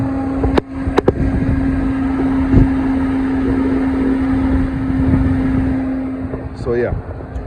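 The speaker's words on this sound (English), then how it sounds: "the fan is back here turning. It won't stop turning until it kills the battery." An electric engine cooling fan on a 2011-2016 Range Rover Evoque runs nonstop with a steady whirring rush and a constant low hum, broken by a few sharp knocks near the start and faint movement near the end.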